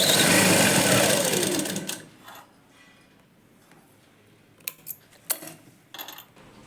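An electric sewing machine runs fast and steady, stitching a plain blouse up close for about two seconds, then stops, followed by a few light clicks and fabric handling sounds.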